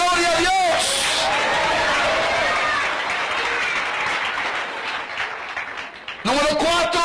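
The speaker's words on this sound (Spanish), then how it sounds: "Dele palmas a Cristo en esta noche." A church congregation claps and applauds for Christ during an evening service, with a sustained, loud wash of clapping that swells and then fades, and a preacher's voice heard at the start and end.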